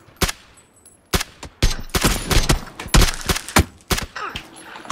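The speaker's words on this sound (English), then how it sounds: "Fuck, getting shot from somewhere." Gunfire in PUBG Battlegrounds: a rapid, irregular volley of sharp, loud shots in quick bursts, some close together, with brief gaps between clusters.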